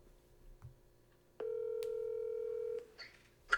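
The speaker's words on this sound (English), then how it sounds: "my phone said call failed" A phone emits a steady electronic tone lasting over a second as a call drops, preceded by a short click and followed by faint clicks, quiet against a near-silent background.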